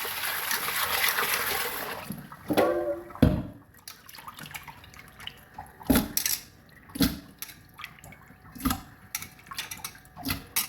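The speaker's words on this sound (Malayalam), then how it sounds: "ഇനി അതൊന്ന് കഴുകി എടുക്കട്ടെ" Water splashes and trickles while a bowl that held prawn shell waste is rinsed out in a home kitchen: a running stream at first, then scattered drips, splashes and knocks at irregular intervals.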